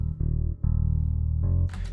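Bass house/lofi MIDI keyboard chords with reverb and EQ applied: loud sustained harmonic tones changing chord several times, ending in a brief burst of bright, airy noise, with no voices.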